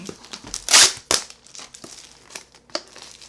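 Crinkling and tearing of a tightly sealed package of books being cut open, a few sharp rustling bursts close by, with brief quiet talk in between.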